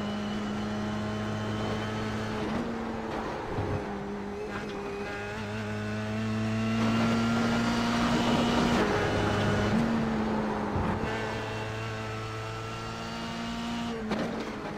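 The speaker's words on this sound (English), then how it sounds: "So that just want to listen to the car here, so you get an idea of how it sounds." A Formula 3 race car in a racing sim game at the Brands Hatch circuit in England, its engine a loud, steady high-pitched whine that rises and drops with each gear change and corner.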